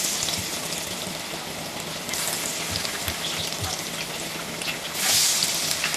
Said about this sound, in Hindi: ये बैटर लगाते जाएंगे और फ्राई करते जाएंगे।